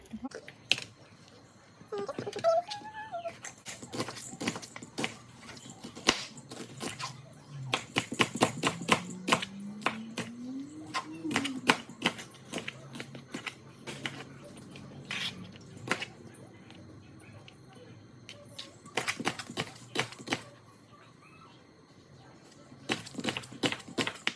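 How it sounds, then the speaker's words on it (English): A knife chops onions on a cutting board during home cooking for shepherd's pie, giving irregular sharp taps in clustered bursts with quiet gaps, close by and without speech. "I'm just cutting some onions."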